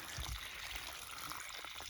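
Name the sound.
water pouring out of a device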